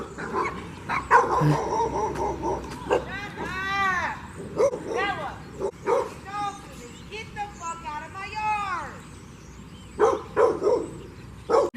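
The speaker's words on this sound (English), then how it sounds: "Oh, the dogs are gonna bark at us." Several dogs bark and yip repeatedly at an abandoned property, some barks near and some farther off, mixed with whimpers while people talk over them.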